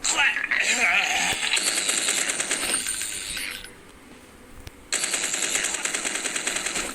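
Rapid gunfire from a gun in a zombie video game, dense bursts of shots filling most of the stretch, with a brief lull in the middle before the firing resumes loudly; a voice talks over it.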